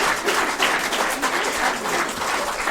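Theatre audience applauding after an amateur adult stage performance of the comedy "Carnage au mariage", a steady dense wash of many hands clapping from a full room, loud and sustained throughout.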